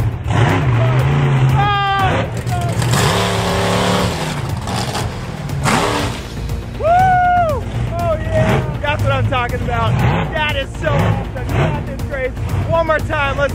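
A Hot Wheels monster truck revs and drives over cars, its engine surging and roaring near and loud with crunching impacts, while excited voices cheer and shout over it throughout.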